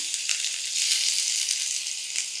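Ginger and green chilli paste sizzles in hot tempering oil for a kolukattai dish, a loud, continuous bright hiss with small crackling bursts, close up and with no talking.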